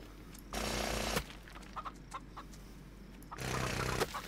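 Chickens clucking in the Farm Together farming video game, a steady clucking bed with two louder, denser stretches and brief clucks in between, with no talking.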